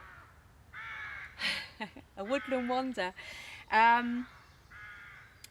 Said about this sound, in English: Do you hear those crows?